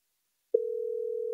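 After a dropped phone call, a telephone tone starts abruptly and holds steady and clear for under a second before cutting off with a click, with no talking.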